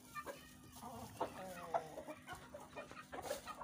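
Desi hens clucking on a poultry farm in Pakistan, a string of short, irregular nearby clucks and squawks over a steady background hum, with no talk.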